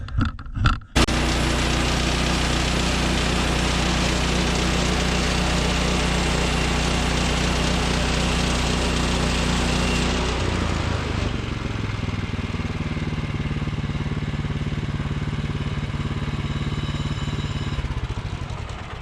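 A Woodland Mills sawmill cuts a log into 2x6 boards, with its engine starting after a few short bursts, then a loud, steady drone under the blade that drops in pitch and eases partway through.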